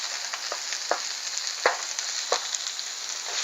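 Onions sizzle in a hot pan during a cabbage, carrot and onion stir-fry, a steady crackling hiss with scattered sharp pops and scraping stirs close by.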